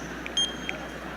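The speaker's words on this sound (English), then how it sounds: "That's a beep boop. Did everybody hear the beep boop?" A Grad Pass scanner at a Georgia Tech spring commencement gives a brief, bright electronic beep and a fainter second blip over a low, steady hall hum.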